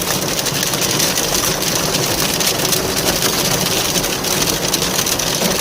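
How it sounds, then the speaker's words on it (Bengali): Heavy hail pounds a parked vehicle during a storm, a loud, dense, unbroken roar of impacts close by that holds steady throughout. "প্রচুর জোরে শিলাবৃষ্টি পড়ছে"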